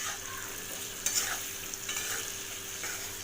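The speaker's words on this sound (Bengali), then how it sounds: "এবার এটা বেশ সুন্দর করে নাড়াচাড়া করবো।" Potatoes with Kashmiri chilli powder, turmeric, cumin and salt stirred in a frying pan, giving a steady soft sizzle with scraping spoon strokes, a couple of sharper clinks near the start, and no voices.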